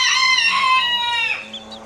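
A bantam rooster gives a loud, close, harmonic crowing call that trails off into softer low clucks.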